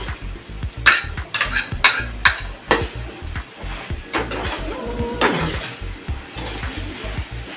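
Ginisang ampalaya, bitter gourd with egg frying in corn oil, being stirred in a pan: a utensil clacks and scrapes against the pan in an uneven rhythm over a low sizzle, close up with no voices.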